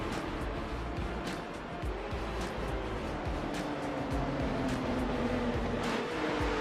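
Porsche Carrera Cup race cars at Brands Hatch Indy in a racing video game drone steadily, with engine whine and several quick pass-by swells under continuous road noise.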